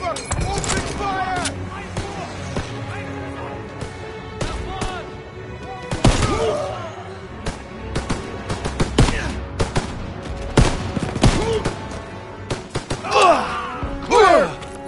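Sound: gunfire in the video game Call of Duty WW2

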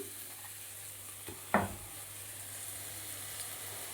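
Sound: vegetable stalks being stir-fried in a pan

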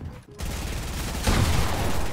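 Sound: gunfire from the video game Fortnite

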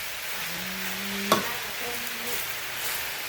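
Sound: stir-frying cabbage in a pan

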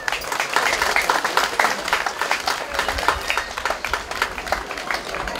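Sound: audience applauding the folk ensemble from Serbia

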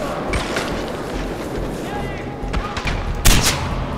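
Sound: gunfire in the video game Far Cry 4

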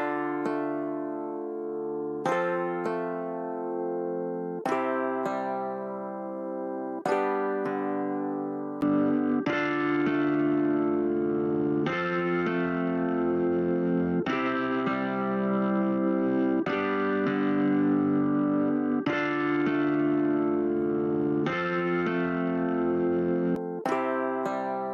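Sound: piano processed through Black76 and SAT X plugins for AmpliTube 5

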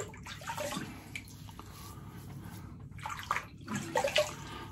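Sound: water splashing while wetting face before shaving

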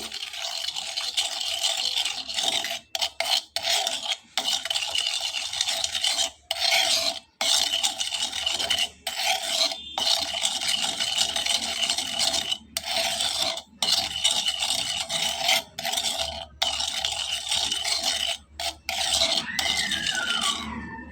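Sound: mixing spice paste with sugar in a bowl

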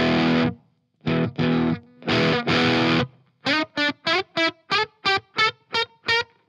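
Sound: '70 Les Paul guitar through Walrus Messner drive pedal

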